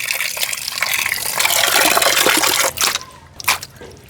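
Water runs and splashes steadily over beef being washed for a bhuna. Near and fairly loud, it trickles and gushes for about three seconds, then breaks into a few shorter bursts.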